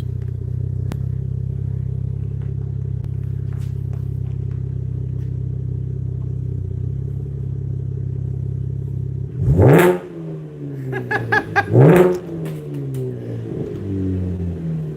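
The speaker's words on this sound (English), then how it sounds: "it's pretty mean sounding exhaust for a Camaro." Aftermarket muffler on a V6 Camaro: a steady low idle rumble, then two sharp revs that climb and fall back, close and loud with no talking.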